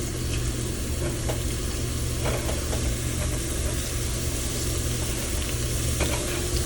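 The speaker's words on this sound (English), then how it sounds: "You can see that the garlic is starting to cook." Garlic cooking in a pan for a homemade spaghetti sauce, a loud, dense, continuous sizzle and crackle that holds steady from start to finish with no talking.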